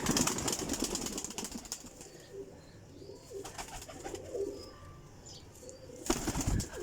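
Young Teddy breed pigeons in a loft, with soft cooing and brief wing flaps near the mic amid light rustling, and a louder burst of movement near the end.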